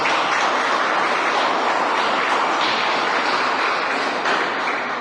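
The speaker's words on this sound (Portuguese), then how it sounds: "Dá um aplauso ao Senhor." A church congregation bursts into dense, sustained applause, loud and even throughout with no voices standing out.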